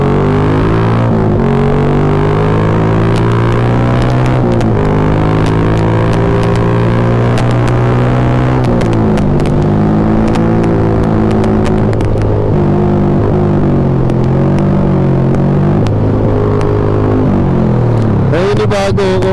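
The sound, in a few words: Yamaha Sniper 150 motorcycle engine while riding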